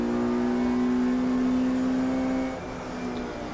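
A race car at Brands Hatch coming up behind a slower car to lap it gives a loud, steady engine drone that shifts and eases slightly near the end. No one speaks.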